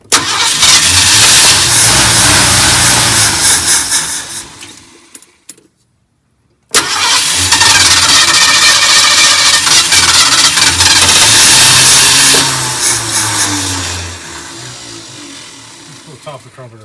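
A 1972 Ford F100 pickup with a dried-up carburetor cranks and fires after years sitting, running loud and rough, cutting out for a moment, then restarting and revving before settling down.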